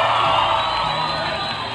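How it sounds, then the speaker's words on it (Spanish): A carnival crowd cheering and whooping, a dense loud roar of voices with shouts mixed in, sustained and close. "Un aplauso, por favor."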